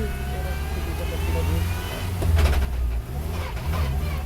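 A VW Fun Cup race car's engine drones loudly and steadily as the car pulls away, swelling briefly partway through, with voices talking over it.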